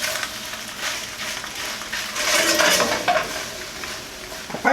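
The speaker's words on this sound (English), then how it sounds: "Give that a stir." Shrimp carbonara pasta is stirred in a skillet, with a continuous scraping, rustling churn and faint utensil clinks against the pan, close and fairly loud, with no talking.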